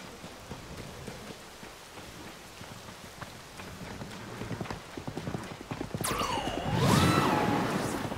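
In The Legend of Zelda: Tears of the Kingdom, hooves clop rhythmically on hard ground, picking up pace into a gallop, then a horse whinnies loudly near the end over steady rain.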